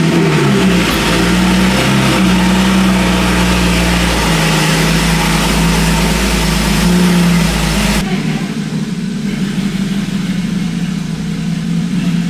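A BMW 335i engine runs as the car is moved, a close, loud, smooth engine note with gentle revs that drops abruptly to a quieter idle near the end.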